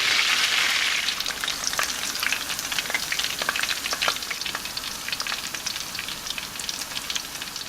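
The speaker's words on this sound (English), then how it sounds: "I'm just going to continue to bathe this fish with hot oil" Whole mojarra fish frying in a pan while hot oil is basted over it, a dense crackling sizzle that spits loudly at first and then settles into a steady bubbling spatter.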